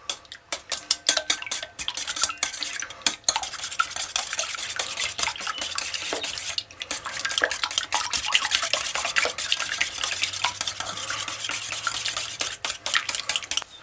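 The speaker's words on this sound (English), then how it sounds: "get in there and whisk it with your tiny whisk that your wife tells you is the perfect size" A tiny whisk beats milk in a bowl for a country fried steak batter, giving rapid, uneven scraping and tapping strokes close by, busy and continuous throughout with brief pauses, no talking.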